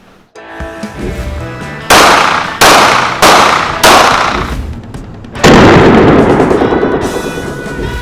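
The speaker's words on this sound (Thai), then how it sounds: "เดี๋ยวเรามาดูกันครับว่า เทียบกับก๊อก 19 แล้วมันยิงโอเคแค่ไหน" Sharp gunshots from a Glock 48 9mm pistol at a shooting range, several loud close cracks spaced about a second apart, each followed by a ringing decay, with a final burst as the clip ends.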